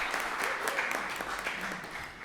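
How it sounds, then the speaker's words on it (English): Audience applause at a city council meeting, a steady wash of clapping from a roomful of people lasting a couple of seconds, moderately loud and even throughout. "let's give them a round of applause and thank them for all that they do"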